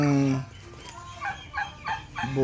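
Turkeys in a farm chicken coop give a close, loud gobble followed by several quick, warbling gobble bursts in a row.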